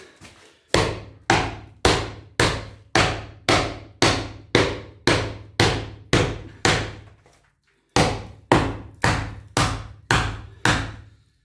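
Someone hammers a piece of metal to bend it back into shape: a run of loud, evenly spaced hammer blows close up, a short pause, then a few more strikes in the same steady rhythm.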